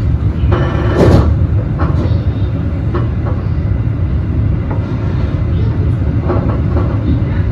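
Interior of the Malabar business class passenger train in motion, a loud steady low rumble of wheels and carriage with occasional rattles and clicks, no talking.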